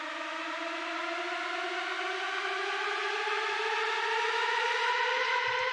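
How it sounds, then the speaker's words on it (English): A synthesized 8-bar riser effect from a royalty-free sound design sample pack, a steady harmonic tone climbing gradually in pitch and swelling slightly louder over several seconds, alone without voices. "this ABLETUNES 8-bar riser you can find on the internet for free"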